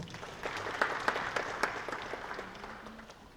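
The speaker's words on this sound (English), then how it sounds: "Ladies and gentlemen, a round of applause for Dr. Muduba." Audience applause for a speaker introduced at a cybersecurity panel discussion, steady moderate clapping from a seated crowd with a few sharper claps standing out, fading slightly toward the end.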